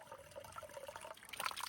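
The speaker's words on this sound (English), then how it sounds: "Now, I'm gonna let this bag fill up. It's 2 liters" Water trickling and splashing steadily into a 2-liter filter bag at a trail water source on the Appalachian Trail, a faint, continuous rushing that builds slightly toward the end, with no voices.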